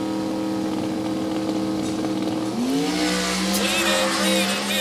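A drag racing car at a drag strip revs and then launches hard, its loud engine note rising quickly in pitch as it pulls away, with an announcer's voice underneath.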